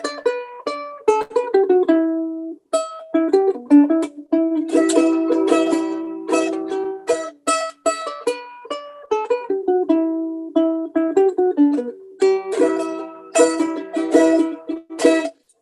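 A little tune plucked on a South American mandolin, bright tremolo-picked notes running through a lively melody with quick strummed flourishes, close and alone without any voices.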